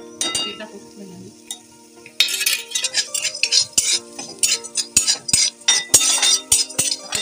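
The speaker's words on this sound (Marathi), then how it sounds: "पहिले लवंग, दालचिनी, मिरी आणि आपली धणे हे मस्त भाजून घ्यायचे." Cloves, cinnamon, black pepper and coriander seeds are dry-roasted in a hot kadhai, heard as quiet scraping at first, then a brisk run of close metal clinks and stirring strokes.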